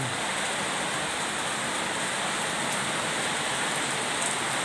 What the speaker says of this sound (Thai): บรรยากาศฝนตก